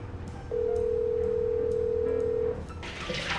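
A phone call placed by voice assistant plays a single long, steady electronic tone lasting about two seconds, followed by a faint rustle of room noise.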